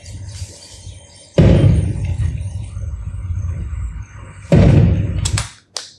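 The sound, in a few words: explosion blast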